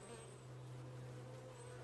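Dense, continuous buzzing of many honey bees at a hive with a failing queen, close by, a steady droning hum with no voices.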